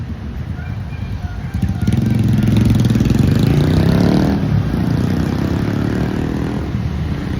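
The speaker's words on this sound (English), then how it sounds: "Oh, there's motorcycles." Motorcycle engines rumble and rev as they pass along a neighbourhood street in Colombia, rising to a loud roar and then easing off, with traffic noise around.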